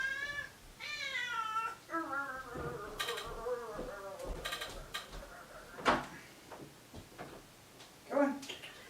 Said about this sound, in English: now the cat decided to join me